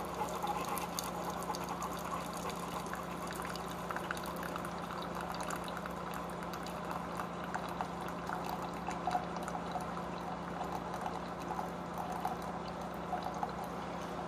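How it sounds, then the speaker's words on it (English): A single-serve K-Cup style coffee maker brewing, giving a steady pouring, trickling hiss of hot water into a cup with a low continuous machine hum throughout, close and moderately quiet with no talk. "this one does start brewing right away"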